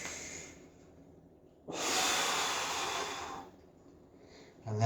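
A person breathes during a push-up demonstration: quiet room tone, then one long, close, hissing inhale lasting about two seconds, followed by a short sharp breath at the end.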